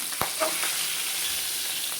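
Pieces of rohu fish frying in hot oil, a continuous hissing sizzle with one sharp tap and a soft scrape near the start, close and even.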